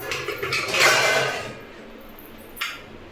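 A child pulls pots and pans out of a kitchen cupboard, with metal clattering and scraping in a short burst that builds and fades, then one small clink follows.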